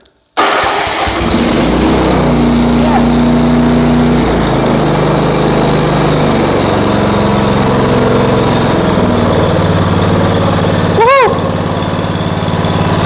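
A Honda snowblower engine at full choke cranks after a brief pull and catches, then runs steadily and loudly at close range with a slight change in pitch partway through. A short higher-pitched whine sounds near the end.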